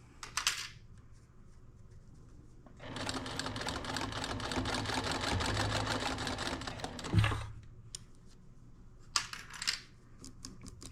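A sewing machine backstitches a circular hem on a fabric breadbasket, running in one steady, fast, close whirring burst of several seconds, with short mechanical clicks and handling noises before and after.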